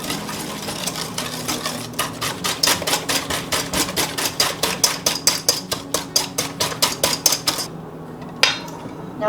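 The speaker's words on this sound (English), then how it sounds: "now I'm just going to whisk all of this together until it is nice and smooth" Rapid clicking taps of a whisk against a bowl while wet ingredients for zucchini bread are mixed, a steady close rhythm of sharp strokes that stops near the end.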